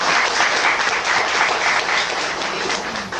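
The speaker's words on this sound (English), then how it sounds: "Give her one more round of applause." A lecture audience gives a full, steady round of applause, dense and close, lasting the whole few seconds with no talking over it.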